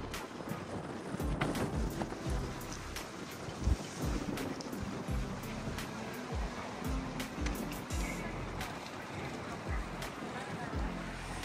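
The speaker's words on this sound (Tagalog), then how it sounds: "Lakas ng hangin." Strong wind buffets the microphone in a continuous rushing roar, with occasional thumps and gusts, and faint voices underneath, outdoors at LaLaPort Fukuoka shopping park.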